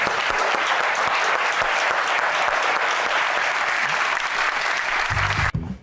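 Studio audience applause on a talk show about a visitation dispute, loud and sustained dense clapping from a crowd that cuts off abruptly at the end.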